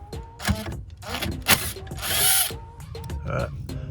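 Ratchet with a 10 mm socket loosening a bolt on a Honda Civic race car: short bursts of rapid clicking ratchet strokes, close up, with brief pauses between turns and a little talk.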